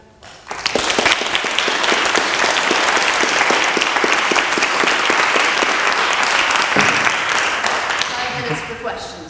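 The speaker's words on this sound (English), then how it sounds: "let's give Gail a round of applause" An audience gives a lecture speaker a sustained round of applause after a talk on soil and human health, many hands clapping loudly and evenly for several seconds before tapering off.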